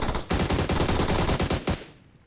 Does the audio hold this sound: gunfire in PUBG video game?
yes